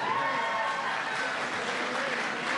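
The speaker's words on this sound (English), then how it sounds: "Yeah, go ahead, give Tim a big round of applause." A crowd gathered for the visiting Louisville national champion basketball team applauds continuously at moderate volume, with faint voices mixed into the clapping.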